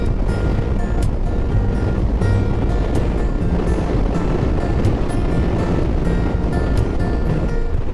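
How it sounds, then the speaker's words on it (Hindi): Strong wind blows across a high Himalayan mountain pass near Baralacha La, a loud continuous roar of rushing air and microphone buffeting that lasts the whole eight seconds with no break. "ओ भाई इतनी तेज हवा चल रही है"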